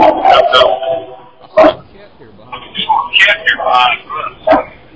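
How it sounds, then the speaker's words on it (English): Dog barking in short bursts amid a radio roundtable conversation, with people talking over and between the barks; the barks are sharp and intermittent, moderately close. "Oh, was it a dog?"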